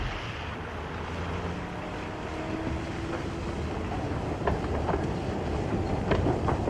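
A Paris Métro train running along its line, a steady rumbling roll with faint clicks of wheels over rail joints and brief squeals, continuous and fairly close throughout.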